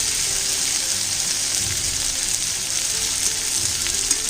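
Colocasia root (arbi) frying in a pan for an ajwain arbi sabzi, giving an even, loud, continuous sizzle with only faint movement from stirring and no voices.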